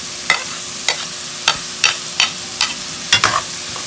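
Garlic sizzles in a hot pan for chicken afritada, with a steady frying hiss broken by six or seven sharp scraping stirs at regular intervals, close and fairly loud, with no voices.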